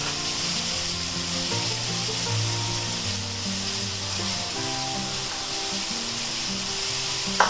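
Water leaf greens with onion and garlic sizzle steadily in a pan while being stirred, a continuous close frying hiss with scraping strokes throughout and no talk.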